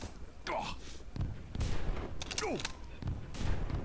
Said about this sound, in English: I'm shooting to miss.